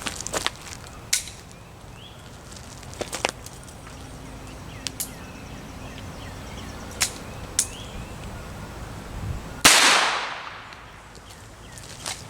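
.22 rifle shots fired outdoors at a plastic cap vest: several light, sharp snaps spread across the clip, then one loud crack near the end with a brief ringing decay, over steady background noise.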